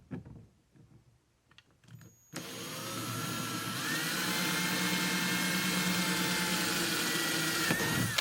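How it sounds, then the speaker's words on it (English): A power drill bores a hole in a kayak hull, whining loud and steady for about six seconds after a few quiet handling clicks, with the pitch shifting slightly as the bit cuts through. "I'm going to drill my first hole."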